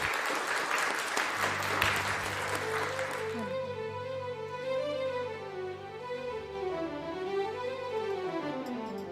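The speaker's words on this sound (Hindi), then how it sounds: "उनके लिए ज़ोरदार तालियां" Audience at a tribute concert claps for the performers, a loud burst of applause in the first few seconds that fades as a sustained musical note and melody take over.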